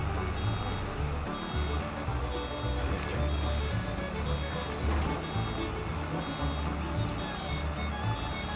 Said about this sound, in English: the tracker also beeps at us when it gets full